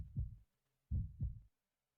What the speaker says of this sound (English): And it's even got the, like, the heartbeat sound.